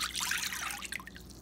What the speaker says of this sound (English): Got my mixing bowl here. In it, I'm going to put 1 cup of soy sauce.